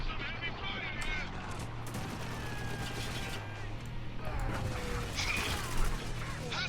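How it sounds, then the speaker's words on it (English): Heavy gunfire from a turret in Spec Ops: The Line hammers in dense, rapid bursts amid battlefield chaos, loud and sustained, with shouted voices and whistling tones mixed through. "Turret's got us locked down! Flank to the right! To the right! Taking some heavy fire here!"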